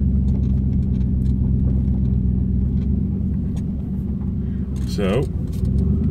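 A car drives along a road, its steady engine rumble and road noise holding throughout, with a brief rising whoosh near the end and a voice speaking over it.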